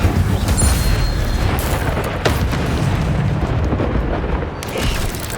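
Incendio fire spell cast in Hogwarts Legacy, a loud continuous whooshing burst of flame with booming, crackling bursts layered over dense combat noise, including a sharp pop near the middle.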